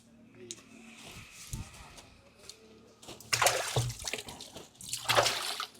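Water splashes and sloshes as hands are washed, in intermittent loud bursts after a quieter start, with a voice speaking nearby.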